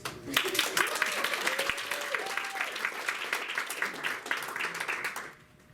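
An audience at an improv comedy show claps in sustained applause for several seconds, dense and steady, with a few voices rising over it before it tapers off.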